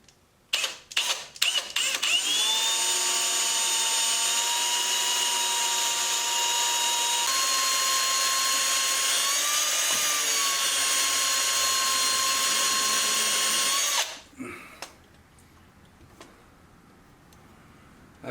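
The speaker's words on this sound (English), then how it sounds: "use an easy out with the right drill bit and hopefully make that work." A power drill fitted with an easy-out extractor bit works on a stuck part of a 1954 International pickup, giving a few short clicks before a loud, steady, high whine for about twelve seconds that stops abruptly, followed by faint handling noises.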